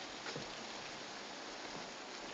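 Steady, dense rainfall hisses evenly throughout, a continuous wash of drops with no pauses and no voices.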